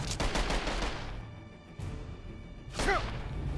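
Assault rifle from a Marksman New Vegas mod for Skyrim fires in quiet, rapid bursts, a fast volley at the start and another short burst near the end, with a faint whoosh between.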